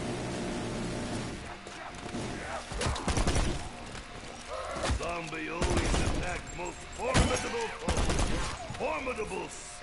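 The Death Machine gun in Black Ops zombies mode fires in loud, heavy bursts mixed with game noise and crowd-like clamor, and a voice talks between them.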